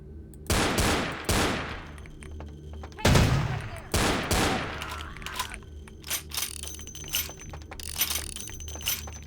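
Gunfire bursts in the vampire video game Vampire the Masquerade: several loud, sharp shots in quick clusters early on, then a busier stretch of lighter cracks and clatter.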